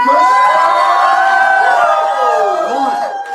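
Cheering and whooping from the crowd at a weekly open mic poetry reading in Eugene, Oregon, loud and close, with mixed voices rising and falling for about three seconds.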